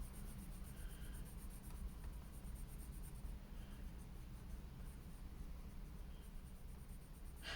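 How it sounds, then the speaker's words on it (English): Steady pencil burnishing with a Derwent Metallic colored pencil on paper, a soft continuous scratchy rub that holds at an even level throughout, heard alone with no talking. "Now I'm just gonna try if I burnish part of this."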